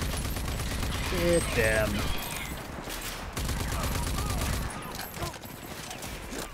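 Pistol gunfire in the shooter game RAGE 2, a few sharp close shots and crashing impacts amid game noise, with a voice talking briefly over it.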